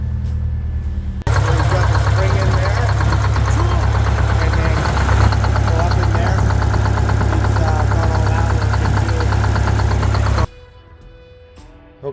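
The engine of a Greyhound Scenicruiser bus idles loud and close with a heavy, steady low rumble for about nine seconds, then cuts off abruptly into near quiet.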